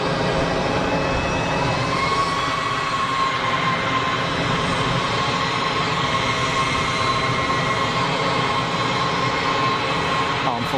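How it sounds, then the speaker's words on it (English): An Iberia Airbus A320ceo at full throttle on its takeoff roll at Geneva Airport bound for Madrid, a steady, loud engine roar with a broad rushing hiss and a sustained tonal whine, unchanging for the whole stretch. "Full of throttle to get the 320 CEO rolling."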